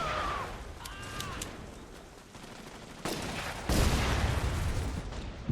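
Gunfire in The Saboteur game: bursts of shots at moderate distance amid busy combat noise, growing louder toward the end, with faint voices early on.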